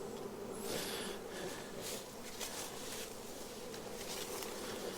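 Honey bees at a hive during a swarm collection hum steadily in a dense, close buzz that persists without a break, with individual bees flitting nearer at moments.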